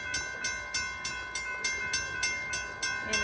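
An Amtrak train passes close by with a steady, regular clickety-clack of wheels over rail joints and a constant metallic whine underneath, with no talking.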